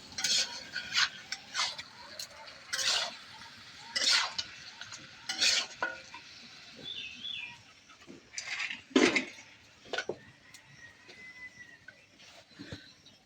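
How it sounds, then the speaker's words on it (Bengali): Chili, cumin and ginger pastes stirred and fried with vegetables in a pan for khichuri, with repeated scraping and clattering strokes of a spatula over a soft sizzle, close and fairly loud, no talk. "ভালো করে কষিয়ে নেব লঙ্কা বাটা,"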